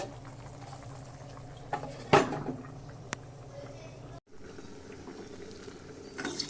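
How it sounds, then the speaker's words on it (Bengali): A metal lid clanks onto a pot of koi fish and potato curry simmering in a thin gravy, one sharp clatter over a low, steady bubbling, followed by a brief quieter moment. "তারপর আমি ঢেকে দেব"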